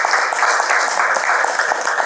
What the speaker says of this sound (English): Please, guys, you can clap a little louder.